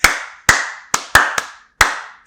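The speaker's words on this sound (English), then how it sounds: "Clap for Sarkodie." Hand clapping in a Ghanaian setting: six sharp, separate claps at an uneven rhythm, close and loud, each with a short ringing decay, with no voices.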